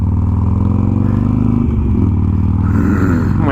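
Harley Sportster exhaust with fresh spark plugs rumbling loud and close, a deep steady throb with a brief rise in revs partway through, heard from a bumper-mounted recorder on the road.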